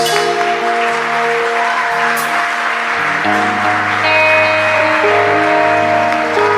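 A church congregation applauds during a worship service, a steady wash of clapping running the whole time beneath sustained music.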